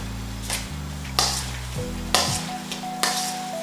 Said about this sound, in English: Okay, so we'll give this a nice, good stir. Probably should have grabbed a bigger spoon